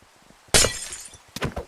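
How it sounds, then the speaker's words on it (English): Glass blocks being destroyed in the Minecraft video game: a loud, close shattering crash, then a second, shorter breaking burst about a second later, with quiet game sounds in between. "I'm working my way to the top with destroying the glass"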